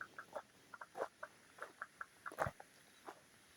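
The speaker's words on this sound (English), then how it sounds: "Listen to those sounds of those frogs." Frogs calling from a small pond in the Australian bush: faint, short chirping croaks repeating in an irregular rhythm over quiet background hiss.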